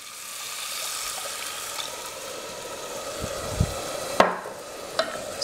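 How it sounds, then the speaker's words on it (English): Rice is stirred in oil with vegetable stock in a pan, giving a soft, steady sizzle with occasional spoon scrapes and clinks against the pan, heard close. "Add the rice and stir it so the oil coats the rice."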